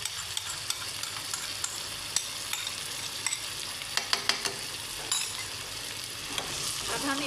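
Potato curry masala with curd sizzling as it is stirred and roasted in a pan, a constant frying hiss broken by small clicks and scrapes of the spoon, close up with no talking.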